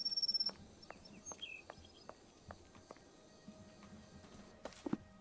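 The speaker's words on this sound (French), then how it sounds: "Un chant étrange, comme une suite de claquements alternant avec des notes glissantes. Ces cris semblent provenir des fourrés." A strange bird call from the undergrowth in a Sherlock Holmes adventure game: a series of sharp clicks alternating with gliding notes, faint and scattered over a quiet ambient bed, with a brief louder burst near the end.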